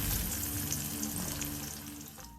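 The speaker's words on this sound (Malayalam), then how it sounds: "ഇനിയിപ്പോൾ ഇതേ എണ്ണയിലേക്ക് തന്നെ നമ്മൾ മാങ്ങ ഉണ്ടല്ലോ, അരിഞ്ഞ് വെച്ചിരിക്കുന്ന മാങ്ങ കുറച്ചായിട്ട് ഇട്ട് കൊടുത്ത് ഫ്രൈ ആക്കിയെടുക്കണം." Chopped mango pieces frying in hot oil for a pickle, giving a steady crackling sizzle that fades slightly toward the end, close and without any talking.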